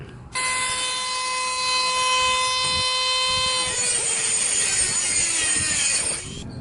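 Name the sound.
cutting a flange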